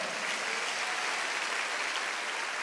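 A congregation at a Wednesday service in a Korean church breaks into applause: a dense, even roar of many hands clapping at once, sustained and steady throughout with no talking over it.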